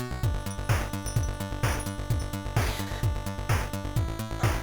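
Looping WASM-4 chiptune synth pattern with a repeating bass line and a second synth voice a fifth above it, bright square-wave tones pulsing in a steady, even rhythm, fairly loud with no talking.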